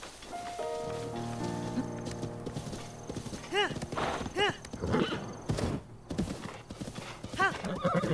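Horse hooves clip-clopping at a gallop in The Legend of Zelda: Breath of the Wild, with several sharp whinnies and neighs over a layered game music bed, and faint talk in the background.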